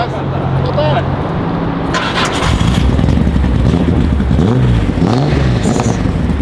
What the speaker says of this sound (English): Oh my god, L28 sounds so good.